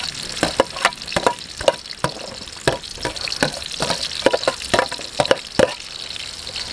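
Milkfish (bangus) innards being mixed in a cooking pan, a loud, close series of repeated scraping and clattering stirs in an uneven rhythm over a faint sizzle.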